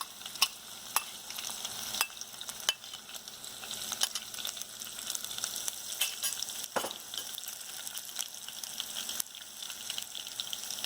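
Crushed garlic and green chilies sizzle in hot oil at a moderate level, with an ongoing crackle and occasional sharp ticks and pops from stirring, and no one talking.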